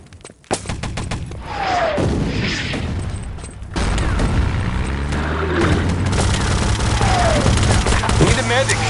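Artillery barrage in the Wolfenstein: Enemy Territory multiplayer game, with dense, continuous booming explosions and rattling gunfire layered together, loud and close, with a heavier impact partway through.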